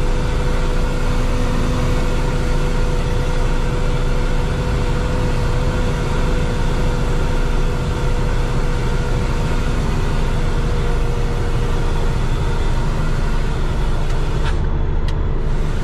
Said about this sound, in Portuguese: Tô deixando descer aqui no freio motor.